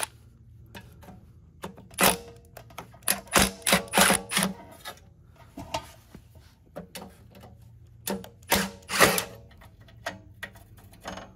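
Phillips head screws are removed from a 1985 Litter Getter yard vacuum, with irregular close clicks, taps and scraping clatter from the screwdriver and metal parts, coming in uneven bursts.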